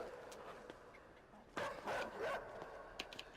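A dog in the video game INSIDE barks in a few loud, rough bursts in the middle of a quiet, murky ambient background, with one more short yelp near the end.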